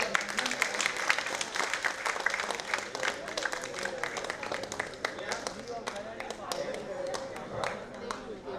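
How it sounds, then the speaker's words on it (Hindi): Audience applause at a Hindi literature conference hall, steady dense clapping throughout at a moderate distance, with faint voices mixed in. "तालियां बजाकर"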